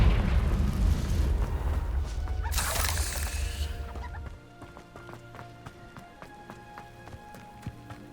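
A Confringo fire spell in the video game Hogwarts Legacy bursts with a rough blast and crackling whoosh that fade after about four seconds, leaving light scattered game sounds and small clicks.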